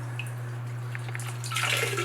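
Water dripping and trickling from a disconnected toilet supply line onto a rag, a few faint drips followed by a brief louder splashing trickle over a steady low hum.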